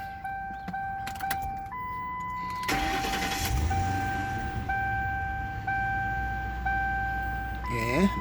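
A 2005 Lincoln Town Car with newly swapped injectors and a suspected vacuum leak cranks over amid warning chimes, catches, and settles into a steady idle, heard nearby.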